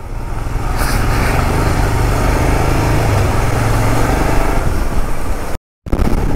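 A motorbike engine runs steadily at a constant drone while off-roading in the rain in Mumbai, loud and close, with rough broadband noise and a brief dropout near the end; no voices.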